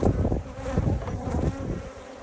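Dense, steady droning buzz of many honey bees packed in a hive box, loud and close throughout with no voices.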